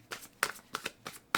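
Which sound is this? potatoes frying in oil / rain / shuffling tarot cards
shuffling tarot cards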